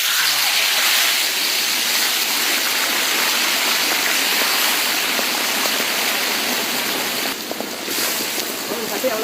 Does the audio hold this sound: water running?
yes